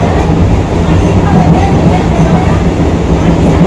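A train standing at a railway station gives a loud, steady, continuous rumbling hum close by, with constant low-frequency noise throughout and no distinct clatter.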